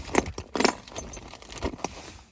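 Silver coins and 1980s casino tokens clink and rattle as they are handled at a flea market stall, a few bright metallic jingles close by with no talking.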